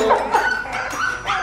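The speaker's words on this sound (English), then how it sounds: "So we're gonna see these puppies, they're so cute." Puppies bark and yip in a quick, close burst of high, excited calls, loud and with no one speaking over them.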